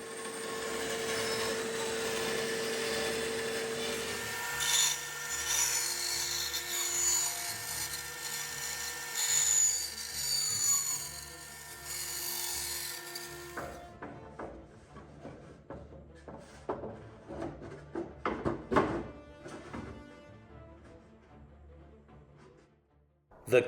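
A power saw rips and cuts wooden boards for a boat keel, first a sustained high whine of a running blade, then a series of irregular rasping cuts and knocks of wood handling in a workshop.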